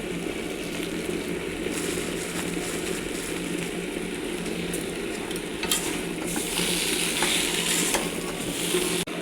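Spices being stir-fried in a pan for a jackfruit and prawn curry, a continuous sizzle with stirring and scraping strokes throughout, fairly close and steady.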